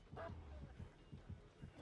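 A dog in the video game Dead by Daylight gives a few faint, quick yips and barks in a soft rhythmic run, heard at low volume with faint voices in the background.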